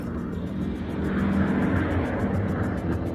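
A propeller airplane's engine roars steadily, a broad rumbling drone that swells slightly louder as it draws nearer, with no voices.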